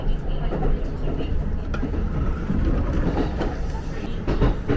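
A Japanese luxury train travels between Kyoto and Osaka, giving a steady low rumble and rolling noise from inside the carriage, with faint rhythmic clacks throughout.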